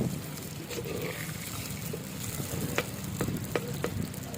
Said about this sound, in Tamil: இப்போ நம்ம எண்ணெய் கொஞ்சம் சின்ன வெங்காயம் எடுத்து போட்டு நல்லா வறுத்து விட்டுடலாம்